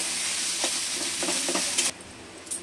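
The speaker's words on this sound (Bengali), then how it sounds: "এবার ভালো করে একটু কষে নিতে হবে, যতক্ষণ না পুরটা না তৈরি হবে ততক্ষণ ভালো করে কষতে হবে।" Fish and potato filling stir-fried in a wok, a soft close sizzle with a few scraping stirs of a spatula, cutting off abruptly near the end to near quiet, no voices.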